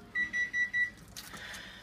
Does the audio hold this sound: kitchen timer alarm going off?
yes